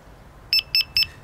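A Delkim TXI-D carp fishing bite alarm gives three short, evenly spaced electronic beeps while being reset, close and clear over a quiet background.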